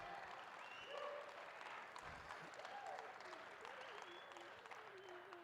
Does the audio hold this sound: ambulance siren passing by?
no